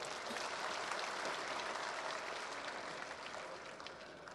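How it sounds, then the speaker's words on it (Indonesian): Applause fills a formal parliamentary assembly session, a dense, even wash of many hands clapping at a steady level that eases slightly toward the end, with no voices over it. "Boleh tepuk tangan yang meriah."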